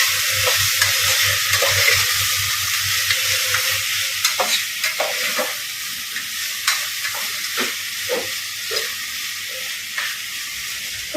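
Vegetable pulao sizzles steadily in a pan while a spoon stirs it, scraping and clinking at irregular intervals over a constant frying hiss, close and alone.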